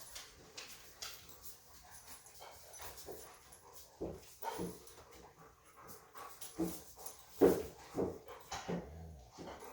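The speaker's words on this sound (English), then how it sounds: "You might hear my dogs in the background because it's almost dinner time" Dogs pant, whimper and let out occasional short barks nearby, an irregular mix of restless canine noises with no talking.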